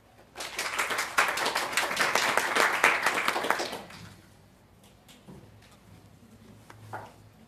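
Applause from a conference audience at a psychotherapy lecture, a dense burst of clapping that swells quickly, holds for about three seconds, then fades to scattered claps and quiet room noise.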